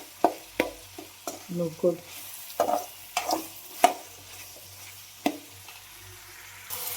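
Palavu vegetables with salt are stirred in a pan, with a series of uneven scraping, clattering spoon strokes over a faint sizzle and a brief spoken word.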